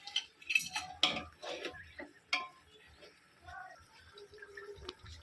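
Crab curry being stirred in a cooking pot, giving irregular scraping and metallic clinks of a spoon against the pot, louder in the first half and quieter later, with no voices.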